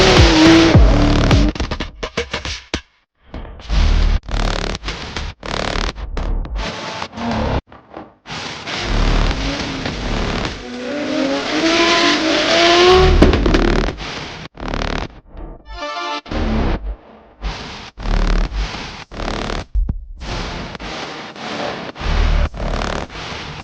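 A drift car engine revs repeatedly during practice at a Drift Masters event, loud surging bursts broken by short pauses, close by.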